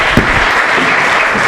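Audience applause closing an economics talk in Argentina: brief, dense, loud clapping from a crowd with a sharp hand clap near the start.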